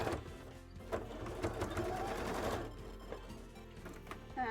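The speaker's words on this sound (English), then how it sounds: "We're doing some stability stitches right now to make sure this doesn't go all over the place" An embroidery machine runs stability stitches before beading, a steady rapid mechanical chatter of needle strikes that stays close and fairly loud throughout, with no one talking.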